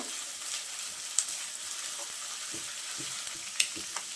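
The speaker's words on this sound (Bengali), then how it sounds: "কাঁচা লঙ্কা কুচিটাও দিয়ে দিচ্ছি, আদা রসুন কুচিটাও দিয়ে দিচ্ছি। এগুলো একটু নাড়াচাড়া করে নেব।" Chopped green chilli, ginger and garlic sizzling in a hot pan, a steady crackling fry with soft scrapes and taps of a stirring spoon.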